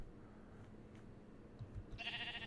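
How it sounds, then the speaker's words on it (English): A bighorn sheep in a Minecraft modpack's Twilight Forest gives a single bleat near the end, rising over a steady low game background. "we got some bighorn sheep"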